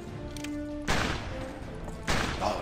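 Two loud shotgun blasts ring out in a video game, each a sharp broadband boom with a short decaying tail, spaced about a second apart over a low background hum.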